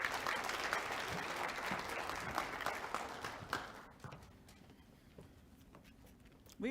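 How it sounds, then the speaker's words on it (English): An audience at an MLK celebration ceremony applauds as an award recipient comes forward, a full, fairly distant round of clapping that thins out and dies away after a few seconds. "So can you give her a round of applause as she comes forward?"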